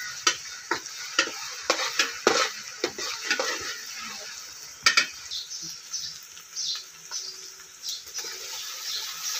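Onions with ginger-garlic paste fry in a pan while a spoon stirs them, giving soft sizzling under a run of sharp scraping clicks, then a quieter steady sizzle; close and fairly faint, with no talking.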